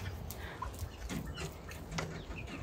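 Hens clucking near a farmyard coop, soft scattered clucks and short calls at a moderate distance over a low outdoor background, with no one talking.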